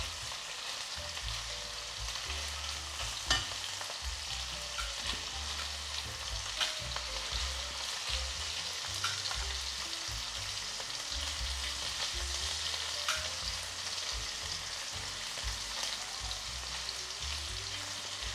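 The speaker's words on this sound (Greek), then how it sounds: "Έχω αυξήσει λίγο τη φωτιά για να τηγανιστούν από αυτή τη μεριά καλύτερα" Greek spetsofai pumpkin fritters frying in oil in a pan over raised heat, a steady close crackling sizzle that runs unbroken throughout with no voices.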